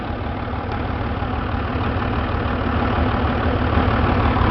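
Twin Hino diesel engines idle steadily in the engine room of a Bayliner 3870 motoryacht, a loud, continuous low rumble with no talking.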